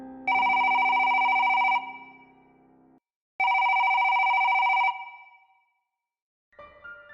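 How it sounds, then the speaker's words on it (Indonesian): A hospital's internal telephone rings in two long electronic bursts separated by a pause, loud and close, with the start of a third ring at the end. "Menjelang pukul 11:30, telepon internal berdering."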